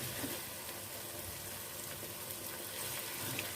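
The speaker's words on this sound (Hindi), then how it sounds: "टमाटर, सब्ज़ मिर्च को भी हम मसाले में भून लेते हैं।" Tomatoes and green chillies fry in masala, giving a soft, steady sizzle and crackle that runs on evenly and fairly quietly, with no talking.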